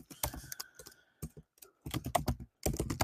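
Fingers type on a computer keyboard in quick, close bursts of soft key clicks, pausing briefly between groups of keystrokes.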